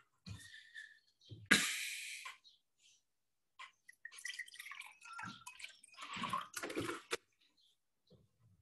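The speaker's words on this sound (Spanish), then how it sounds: "voy a tomar agüita" A person drinks water close to the mic in a quiet room, with a sharp pour or slurp, soft sips, swallows and breaths, then a few faint handling noises.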